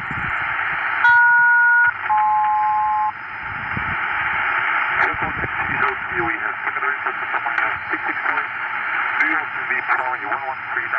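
Noisy shortwave HF air band radio signal on 11396 kHz with steady hiss and static, brief beeping tones near the start, and faint distorted voice-like modulation underneath.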